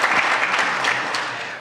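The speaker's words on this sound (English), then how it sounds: "You can clap if you want." Conference keynote audience applauding, a dense, loud wash of many hands clapping close by, steady for the whole stretch and tapering only slightly at the end.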